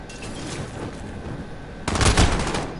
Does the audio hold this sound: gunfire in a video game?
yes